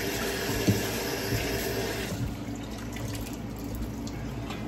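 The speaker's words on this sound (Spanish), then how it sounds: "Vamos a lavar bien el arroz." Rice is washed under running kitchen tap water, a steady, close gush of water with a few soft clunks and sloshes, the stream becoming a little lighter partway through.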